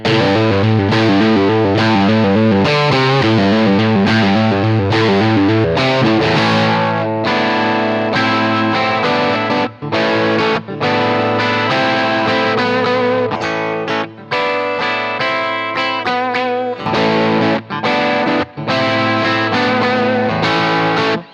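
Electric guitar played through a Fralin 5% overwound P90 pickup of about 8.9k ohms with the volume knob rolled down, still gritty and distorted, strummed chords and riffs ringing continuously and loudly with no pauses or talk.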